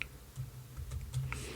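A few quick, light keystrokes tap on a computer keyboard, faint and close in a quiet room, with no talking.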